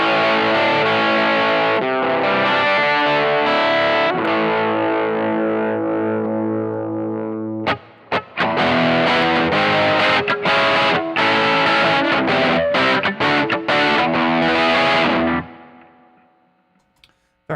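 A Gibson Noel Gallagher NG-355 electric guitar plays through an amp, loud and distorted, with sustained chords, then a run of choppy strummed stabs before the notes ring out and fade.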